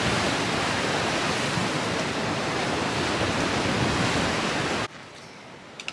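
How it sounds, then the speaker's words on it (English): Ocean waves crashing on the shore at high tide, a loud, dense roar of surf and churning water that cuts off abruptly near the end, leaving only faint ambience. "You can see how high the tide is now with the waves crashing."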